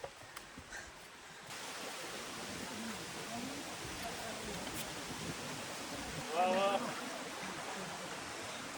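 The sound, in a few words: Khoiyachora waterfall at Sitakunda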